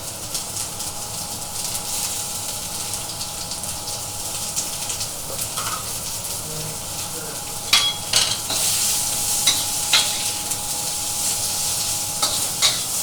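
Onion, celery and carrot stir-frying in a wok without a wok ring, a loud, steady sizzle with scraping and clinks from the spatula stirring the vegetables.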